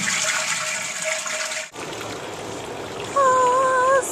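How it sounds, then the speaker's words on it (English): A toilet in Switzerland flushing: a steady rushing wash of water for about a second and a half, then cutting to a quieter trickle as the bowl refills, ending with a faint squeaky whine near the end. "This is how you flush the toilet in Switzerland."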